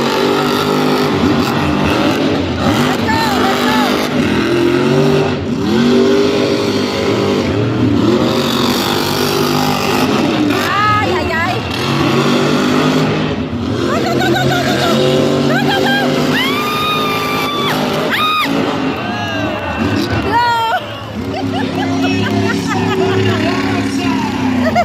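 Monster trucks race at a Monster Jam show in Salinas, California, engines revving and roaring loudly and continuously, with crowd noise and an announcer talking over it.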